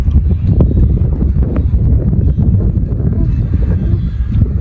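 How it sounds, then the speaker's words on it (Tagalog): Strong wind roars and buffets the microphone in a continuous low rumble at an outdoor kite flying session, with no pauses throughout. "Lakas ng hangin"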